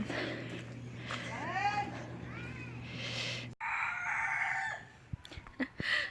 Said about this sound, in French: à Tahiti et Moorea, il y a des coqs et des poules partout